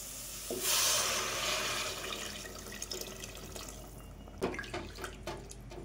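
Water pours in a rushing burst, then trickles and splashes into a cooking pot of vegetable biryani masala, followed by a few knocks and clatters nearby.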